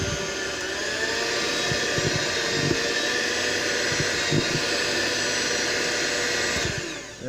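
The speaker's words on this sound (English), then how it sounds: "I got my mixer, and I'm going to go on and get that plugged in here" An electric hand mixer runs continuously in a kitchen during cake baking, giving a steady, loud whirring drone with a faint high whine and occasional soft knocks, close by and without pause until it stops at the end.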